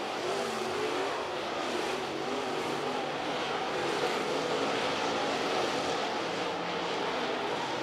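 Steel Block Bandit late model race cars run a heat race at Cherokee Speedway, a dense, continuous engine roar from the pack with gently swelling and fading waves as cars circle the track.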